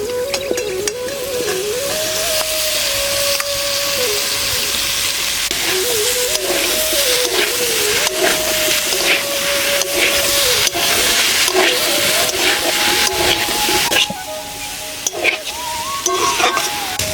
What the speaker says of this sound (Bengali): এবার সিদ্ধ করে আলু আর ওল দিয়ে দেবো।